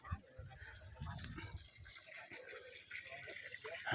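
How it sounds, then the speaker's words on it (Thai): Water from a solar-powered 1500 W pump runs full through a 2-inch pipe, a steady close gushing and splashing that continues throughout at a fairly quiet level. "อันนี้น้ำไหลเต็มท่อครับ"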